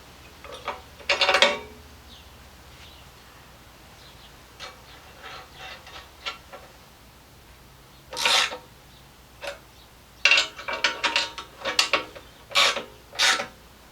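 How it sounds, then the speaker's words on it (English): A wrench works a 15mm serrated nut onto the back side of an aluminum fairlead during a Superwinch SX 10,000 lb winch install on a Jeep Cherokee XJ, giving several short metallic rasping, ratcheting bursts close by with quiet gaps between. "we got a wrench for a 15mm serrated nut that's going to go on the back side"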